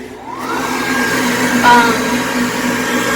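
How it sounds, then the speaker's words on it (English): An electric hand dryer in a passenger train restroom whirs with a steady, loud blowing roar that rises as it starts and holds a constant hum, with a faint voice underneath. "You have a hand dryer here."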